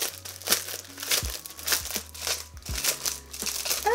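Packaging crackles and crinkles while a new binder is unwrapped, giving a series of sharp, close crumpling bursts and rustles at an irregular pace, quiet overall.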